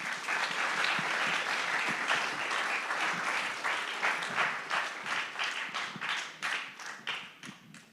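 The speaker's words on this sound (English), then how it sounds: "Give him a hand clap" An audience at a domestic violence awareness symposium gives steady, moderately loud applause that stays dense, then thins into scattered individual claps as it fades out.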